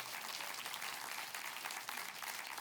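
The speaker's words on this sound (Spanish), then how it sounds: "denle un aplauso fuerte al Señor" Congregational applause for God at a church service, a steady wash of many hands clapping at moderate distance, even and unbroken for a few seconds without voices.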